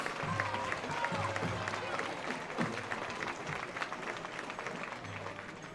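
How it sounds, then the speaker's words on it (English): A homecoming-night crowd at a high school football game breaks into sustained applause and clapping, with distant, reverberant cheering and voices mixed in over a low hum. "Please join me in a round of applause for your"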